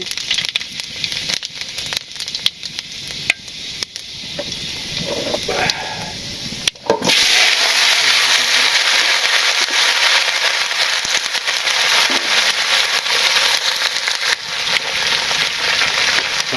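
Bay leaf, dried chili and five-spice (panch phoron) hit hot oil in a village kitchen. There is faint crackling and some talk, then a sudden loud, steady sizzle and spatter that continues to the end.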